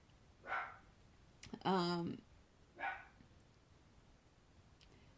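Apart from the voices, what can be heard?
dogs barking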